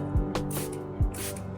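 Dye sprayed from a bottle onto canvas in short spritzes, two or three brief hissing bursts separated by pauses, close and moderately loud.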